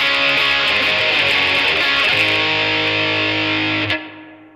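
Electric guitar played through the Dark Mouse, a Rat-style distortion, on a Sonicake Pocket Master with a boost and compressor in front, giving a thick, sustained, fuzzy chord that rings loud and steady, then cuts off abruptly near the end.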